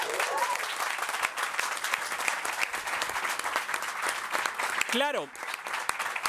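Audience applause at a Campus Party México presentation in the Expo Bancomer hall, a dense steady wash of many hands clapping throughout, with a brief voice near the end.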